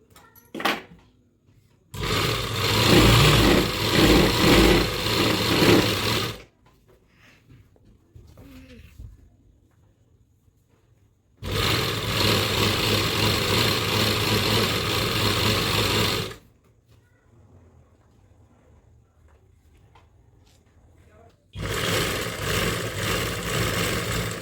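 A sewing machine stitches a salwar belt in three long bursts of steady, rapid whirring and clatter, each lasting several seconds and separated by quiet pauses, close and loud.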